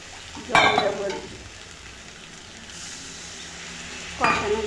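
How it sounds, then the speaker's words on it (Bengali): Spices with ground coriander and chili powder fry in a pan for a fish curry, a soft steady sizzle with two bursts of scraping stirring and clinks of a utensil against the pan. "এর মধ্যে একটু ধনে গুঁড়ো দিয়ে দেবো আর লঙ্কার গুঁড়ো দিয়ে নাড়াচাড়া দিয়ে নেব।"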